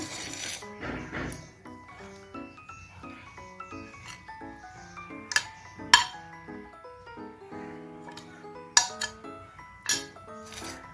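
Fish pieces with bones and oil removed are moved from one kitchen pot into another bowl, giving scattered clinks and scrapes of metal and dishware with a few sharp knocks, close by and irregular.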